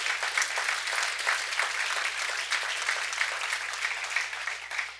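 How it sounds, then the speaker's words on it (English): Crowd at a church family night gathering breaks into loud, steady clapping, a dense continuous patter of many hands with a faint low hum underneath. "Can we give God a big hand clap for that?"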